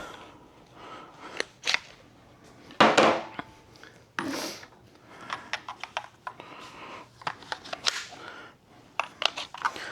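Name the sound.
Makita 18V battery inserted into Jesimaik impact wrench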